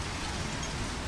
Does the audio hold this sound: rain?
yes